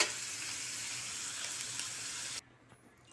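Ampalaya (bitter gourd) with egg fries in a pan with a steady, close sizzle for a couple of seconds, then cuts off abruptly into near silence.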